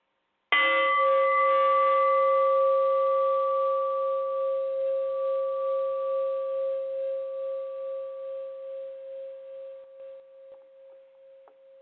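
One clear strike of a bell, its bright tone sustaining and pulsing gently as it slowly dies away in otherwise silent surroundings.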